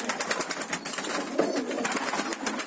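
Arab pigeons coo in a dense, continuous murmur with soft rustling and wing movement nearby, several birds audible together in a loft.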